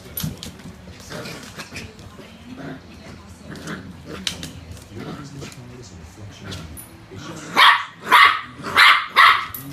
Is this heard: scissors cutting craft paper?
no